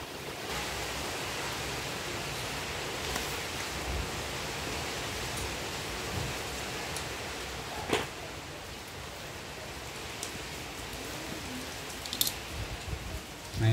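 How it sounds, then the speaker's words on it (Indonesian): Heavy rain falling steadily as a broad, constant hiss, fairly faint and distant, with a few scattered knocks and clicks nearby. "Ini hujan lebat ya,"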